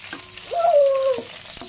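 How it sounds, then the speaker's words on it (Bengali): Two spoonfuls of ghee melt and sizzle in a pan over stove heat before semai is added, a soft close frying hiss with a brief thin whistling tone rising over it, no voices. "ফার্স্ট আমি 2 চামচ ঘি ইউজ করলাম। এটা ভালো করে চুলার তাপে গলিয়ে নেই।"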